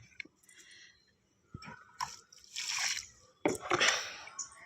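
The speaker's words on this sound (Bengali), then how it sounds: "চলো গাছগুলোকে এখন আমি জল দিয়ে দিই।" Water poured onto small bitter gourd plants, with scattered drips and splashes followed by a few bursts of pouring and sloshing, close by and fairly quiet against an otherwise still background.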